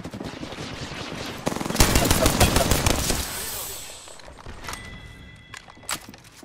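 Automatic gunfire in the shooter game Apex Legends rattles out in a loud, rapid burst, followed by a few scattered single shots and softer game effects.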